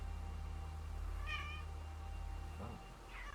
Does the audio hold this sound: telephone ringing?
no